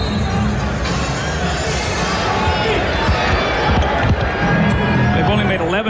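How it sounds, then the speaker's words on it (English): An arena crowd at a 1999 Spurs–Lakers playoff game reacts as Jack Nicholson appears on the big screen, making a loud, dense roar of voices and cheering with basketball bounces and court noise, and a commentator talks over it. "the reaction from the crowd as they see him up on the big screen"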